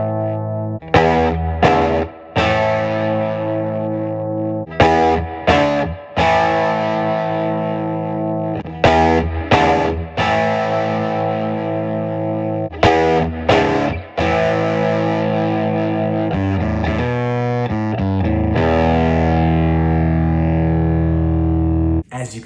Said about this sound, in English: As you can hear, each one becomes more distorted than the last